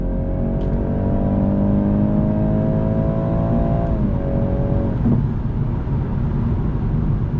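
A 2021 BMW 430i coupe with an 8-speed automatic accelerates under throttle, its engine drone climbing steadily in pitch, then dipping at a gear shift around the four-second mark before pulling on, loud and close with cabin road noise.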